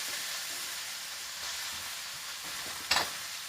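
Onions, carrots, broccoli and cauliflower hiss in a hot stir-fry pan with a steady broadband sizzle, and a short, sharper burst of crackling comes near the end.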